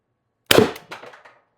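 A TR50 Torpedo CO2 air gun fires an 8.4 gram steel ball bearing: one sharp, close pop that trails into a short rattling ring, with no other sound before it.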